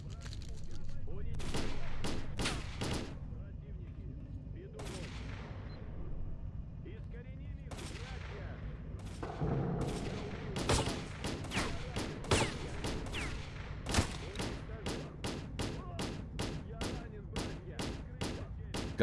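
Bursts of gunfire from a gun in a Pripyat-bound shooter video game, sharp repeated shots scattered through the clip, denser and rapid toward the end, with a voice talking faintly underneath.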